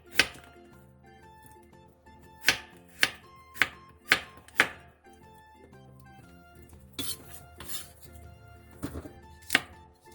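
A knife slices radish into thin pieces on a cutting board, with sharp, close chops coming in an uneven run of about eight strikes and short pauses between them.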